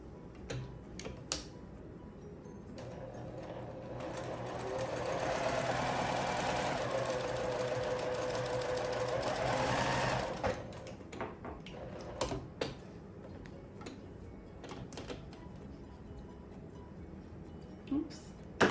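A sewing machine stitching quilt block fabric at an angle, its rapid whirring run lasting several seconds, set between light handling clicks and ticks before and after.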